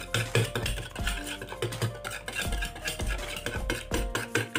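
Two eggs with a tablespoon of green coriander being mixed in a bowl, a steady run of close utensil scrapes and clinks against the dish, with no talking.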